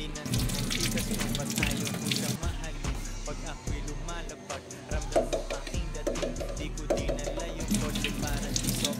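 Tap water runs and splashes in a sink while eggs are washed under it, with clinks and clatter of handling and a person talking at intervals over the flow.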